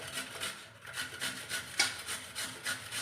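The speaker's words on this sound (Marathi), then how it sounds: "आपल्याला जाड किसणीने याला किसून घ्यायचे आहे" Peeled potatoes are rubbed over a coarse grater in rhythmic, scraping strokes, fairly quiet and close, with no talking.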